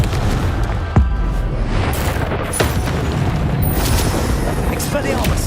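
Confringo spell blasts in Hogwarts Legacy, a few sharp booming bursts over a busy background of combat noise, with a voice shouting between them.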